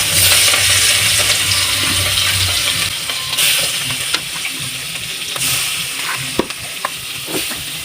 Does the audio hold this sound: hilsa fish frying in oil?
yes